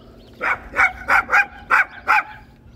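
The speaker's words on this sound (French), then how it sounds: "Regardez les petits chiens là-bas." Small dogs bark six times in a quick, close, fairly loud series of sharp yappy barks over a faint steady hum.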